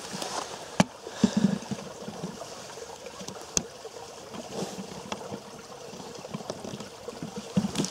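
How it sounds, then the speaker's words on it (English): A slow-moving stream at a wild camp in Kent trickles and gurgles softly and steadily in the open air, with a few sharp knocks and rustles close by. "It's not a fast flowing stream"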